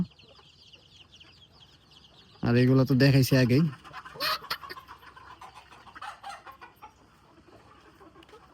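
Hens kept in a poultry shed for egg-laying and brooding give a loud, close drawn-out squawk, followed by softer scattered clucks, with a person talking briefly near the end.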